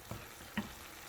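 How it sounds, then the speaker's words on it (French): Tomato and marinade grilling in a frying pan for braised tilapia carp, a low steady sizzle with a couple of soft stirring knocks, close and quiet with no talking. "On va laisser tout ceci griller un peu pendant quelques minutes."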